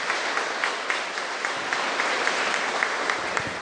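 A church congregation claps together at a Sunday service, a loud, dense burst of hand-clapping with a few sharper accents, sustained throughout with no voices on top.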